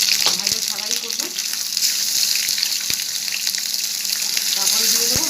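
Chela fish and brinjal cook in a hot pan, a steady bright sizzle with scattered clicks and light stirring knocks throughout, close and moderately loud.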